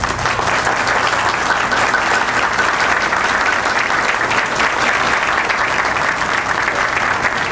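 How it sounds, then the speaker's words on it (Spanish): Loud, sustained applause from a festive crowd cheering a newlywed couple at a celebration, dense and continuous clapping from start to finish with no pauses. "Un aplauso para la afortunada pareja"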